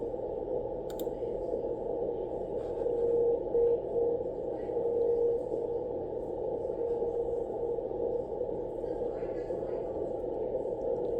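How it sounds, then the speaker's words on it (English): A Russian channel marker transmits the Morse letter D on shortwave as faint, steady tone beeps buried under a constant hiss of radio static. "This is a Russian channel marker that transmits the letter D in Morse code."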